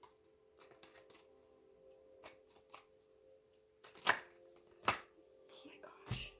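Tarot cards are shuffled close by, soft riffling and sharp flicks with a few louder snaps of cards, irregular and fairly quiet, with a faint steady hum underneath.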